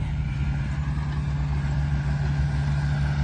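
A steady low bulldozer engine drone with a deep hum while pushing soil, constant and fairly close, with no talking.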